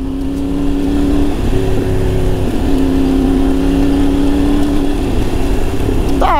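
A loud motorcycle engine drones steadily and close on a dirt road, its pitch holding then rising slightly as it accelerates, with a sharp rising whine at the end.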